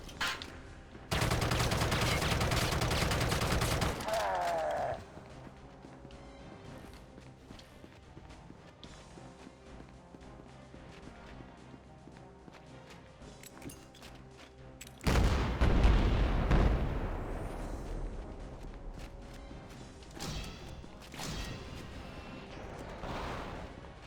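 Gunfire from Halo CE weapons shooting at Covenant enemies, loud sustained bursts at the start and again later, with quieter footsteps and game ambience between them.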